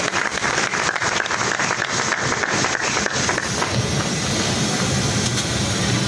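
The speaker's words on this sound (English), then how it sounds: "Please, a round of applause for him as he comes on stage." A conference audience applauds as a speaker comes on stage, a dense, continuous clapping that fills the room and stays loud throughout.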